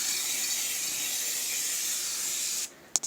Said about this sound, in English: Spray this pan.